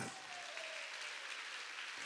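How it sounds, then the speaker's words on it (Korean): A congregation at a summer mountain revival meeting claps in a brief, soft burst, a faint diffuse patter heard from a distance. "박수."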